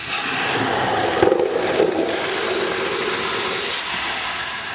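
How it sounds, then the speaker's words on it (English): Hydrant water rushes through a large-diameter four-way valve and a short 5-inch hose section to a simulated nozzle, giving a loud, steady broadband hiss with a couple of brief surges early on, and no talking. "We have a simulated nozzle at the other end of this short section 5-inch to simulate the fire flow."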